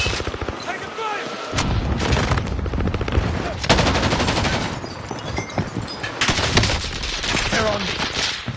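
Sustained gunfire in the video game Warzone, with automatic weapon bursts and booming shots rattling almost continuously and loudly, voices calling out over the combat.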